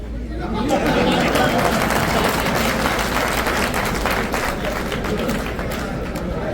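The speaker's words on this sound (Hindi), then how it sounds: "अरे आप मुझे बताओ कि तालियां इतनी कम क्यों बजी?" A crowd at a public rally in Banda claps for a few seconds, the applause fairly loud but mixed with murmuring chatter and fading slightly toward the end.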